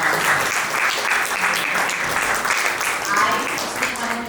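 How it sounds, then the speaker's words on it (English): A round of applause at an International Yoga Summit, a dense, loud audience clapping that holds steady throughout with faint voices mixed in. "A big round of applause"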